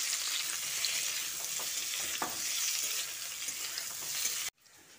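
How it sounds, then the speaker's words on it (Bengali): Teasel gourd (kakrol) and potato pieces fry steadily in a pan, a dense continuous sizzle with a few stirring clicks, ending abruptly. "কাঁকরোল ও আলুটা দিয়ে বেশ খানিকক্ষণ ভেজে নিতে হবে।"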